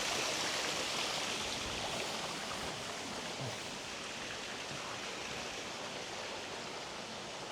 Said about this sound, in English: Clearer view of the pool. Got these water features.